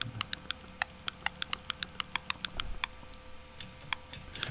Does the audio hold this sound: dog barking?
no